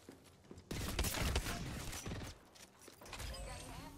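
Gunfire in a first-person shooter video game, heard as a sustained burst of shots and impacts under excited player chatter.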